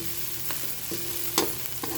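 Pork frying in a pan of laing with coconut milk, a continuous sizzle broken by a few sharp scraping stirs, close and fairly loud.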